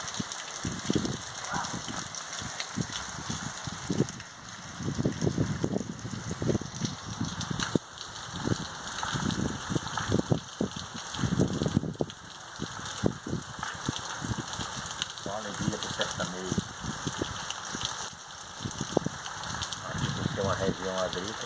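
A dense, continuous downpour at night in the farming sertão around Irecê, Bahia, with someone talking through most of it above the constant rushing hiss.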